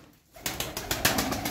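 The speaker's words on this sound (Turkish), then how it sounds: "İçinde 3 tane hazır kuş var." Tumbler and Iraqi feather-footed pigeons, faint soft cooing and a few wing flutters close by, with no talk.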